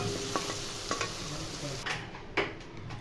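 Egg, amchur and Kashmiri chili powder being mixed in a pan, a soft sizzle with a few spoon taps and scraping strokes, fairly quiet and with no one speaking.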